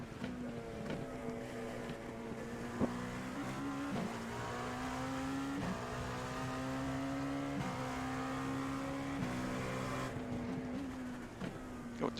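An LMP2 prototype race car in the iRacing sim at Summit Point, its engine droning steadily with rising and falling pitch through gear shifts, close and continuous with no talk.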